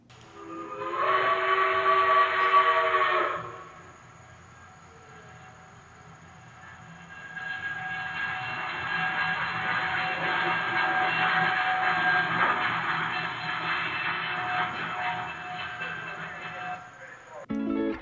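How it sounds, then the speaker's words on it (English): Antique steam train whistle at a railroad museum, one short bright blast followed after a pause by a longer sustained chord-like blow, fairly close and alone. "Let's listen now to this whistle."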